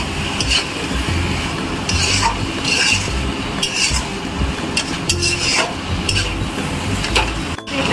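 Potatoes and prawns fry with masala in a pan, a close continuous sizzle broken by repeated stirring and scraping strokes of a utensil, with a sharp clunk near the end and no talking.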